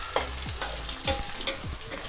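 Sliced onions frying in a pan for chilli chicken, a steady close crackling sizzle broken by several scraping stirs, with no talking.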